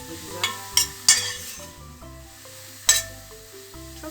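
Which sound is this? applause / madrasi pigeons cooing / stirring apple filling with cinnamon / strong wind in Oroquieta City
stirring apple filling with cinnamon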